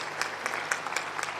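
Steady applause from a crowd at a political rally in Puranpur, Pilibhit, with clapping sustained throughout and a few louder bursts.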